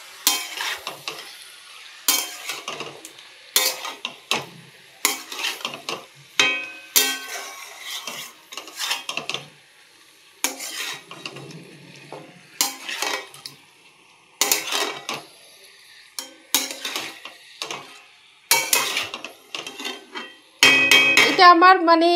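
Chicken fries in oil in a pan while a metal spatula repeatedly scrapes and clanks against it, making bursts of stirring with sizzling in between and a louder steady sizzle at the end.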